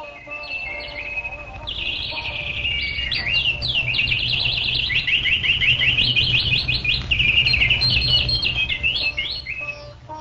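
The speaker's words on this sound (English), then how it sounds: "when the birds began to sing loudly, they woke Lord Krishna" Loud dawn birdsong fills the air, several birds trilling and chirping in rapid overlapping phrases that run nearly nonstop, close and bright over a low steady background rumble.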